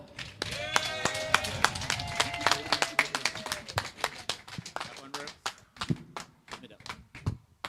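A primary school graduation audience claps for an arriving guest speaker, a scattered mix of sharp hand claps that thins out into sparse individual claps, with overlapping voices in the room.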